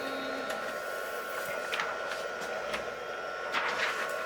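A DTF printer rebooting gives off a steady mechanical hum with a tonal whine, punctuated by several faint clicks and brief whirring bursts of its internal mechanism.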